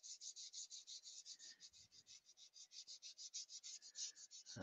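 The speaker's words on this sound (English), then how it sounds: "Just a tiny little rub of sandpaper there." Sandpaper rubs lightly on a wooden bowl in quick, even back-and-forth strokes, a soft rhythmic rasp heard close up and quiet, with a faint knock at the end.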